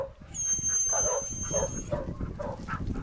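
A puppy working on chewy treats gives off a run of soft whines, grunts and little yips close by, one after another, over a faint high background tone.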